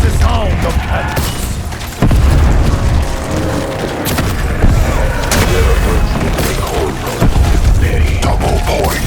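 Cannon fire in a chaotic multiplayer video game battle, a run of heavy booms and crashes that stack over a dense, loud mix, with sharp blasts punctuating the din.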